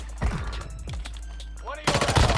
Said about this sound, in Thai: ใช้ปืนพลังจิตยิงมันอยู่